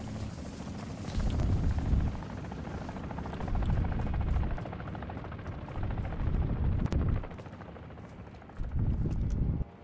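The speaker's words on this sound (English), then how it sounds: "Helicopter's coming in." Helicopter coming in during a combat video game, a steady low rotor drone running throughout with surging swells of noise and scattered bursts of gunfire-like crackle mixed in.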